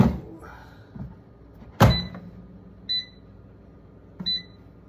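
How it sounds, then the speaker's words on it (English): A kitchen oven timer goes off with three short, high beeps about a second apart, with a sharp knock just before the first one. "Timer's going off."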